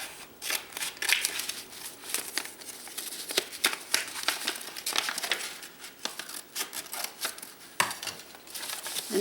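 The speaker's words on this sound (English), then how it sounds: "I'll have to cut the corners from the bag." Scissors cut the corners of a plastic bag, giving a run of close, quiet crinkling snips and rustles in irregular bursts.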